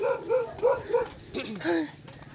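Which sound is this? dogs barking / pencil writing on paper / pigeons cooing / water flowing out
dogs barking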